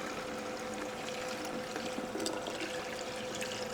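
A little over a liter of cola poured steadily over a pork shoulder, making a continuous close fizzing, splashing stream with a faint steady hum beneath it and no voices.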